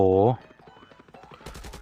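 Gunfire in the mobile shooter Call of Duty Mobile, a loud burst at the start followed by a quieter run of rapid shots under excited talking.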